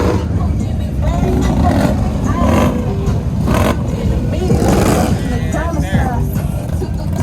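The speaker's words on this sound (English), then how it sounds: "We got a bunch of bikes, man. Bunch of bikes coming in." Harley motorcycles rev and rumble at a crowded bike meet, engines surging and easing under loud, ongoing talk from people nearby.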